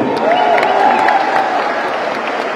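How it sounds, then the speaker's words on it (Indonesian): A crowd at a political rally for a presidential candidate claps and cheers briefly, a dense wash of applause holding steady with a faint voice riding over it. "Beri tepuk tangan untuk beliau."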